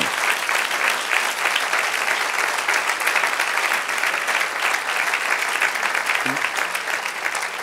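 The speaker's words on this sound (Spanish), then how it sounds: "un aplauso al Señor." A church congregation applauds during a sermon, dense steady clapping from many hands filling the room at a constant level throughout.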